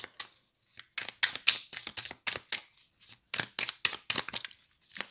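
A deck of shamanic dreaming oracle cards being shuffled by hand, with quick papery riffles and slaps coming in a steady broken rhythm, close and fairly soft, with no voices.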